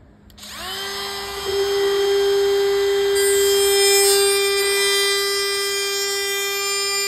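A power tool drones steadily through the wooden side of an arcade cabinet, a loud sustained whine holding its pitch after a sudden start, with no talking.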